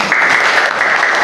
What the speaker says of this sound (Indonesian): Tepuk tangan dulu untuk Aska.